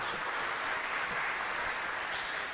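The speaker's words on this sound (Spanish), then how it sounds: "Fuerte aplauso para todos nosotros" A church congregation at Mass claps together in a steady, dense wash of applause filling the space, even in level throughout with no voices over it.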